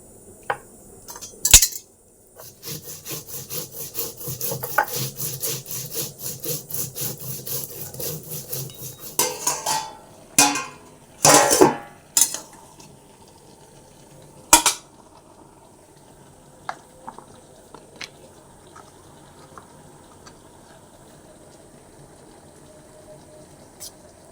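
Spices ground by hand on a stone shil-bata, a steady rhythmic rasping scrape that runs for several seconds, then breaks into a few louder knocks and scrapes before fading into quiet.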